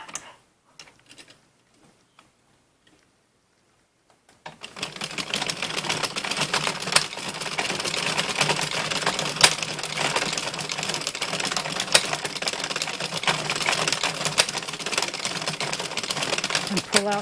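An Addi knitting machine is hand-cranked while knitting a Rudolph the Red-Nosed Reindeer Christmas water bottle cozy. After a few quiet seconds, a steady, close clattering of ticking needles runs without a break to the end.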